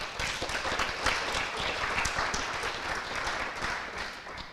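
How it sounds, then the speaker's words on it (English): A banquet audience at an FFA chapter event claps for the parents, a dense, fairly soft wash of many hands that carries steadily from start to finish in an indoor hall. "Please give a round of applause to your parents one more time."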